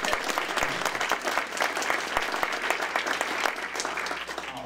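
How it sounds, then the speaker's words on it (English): A crowd applauds a speaker after a talk on droughts and extreme weather, a loud, dense burst of many hands clapping that carries on unbroken and stands alone without talk. "So now you can clap for our speaker."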